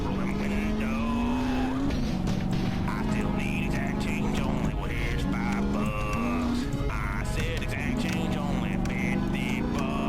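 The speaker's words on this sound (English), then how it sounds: "the dune buggy going up a mountain in the desert" Dune buggy engine in GTA San Andreas, a continuous droning whine that rises and dips in pitch as it climbs a desert mountain, with bursts of tire skidding and voices talking over it.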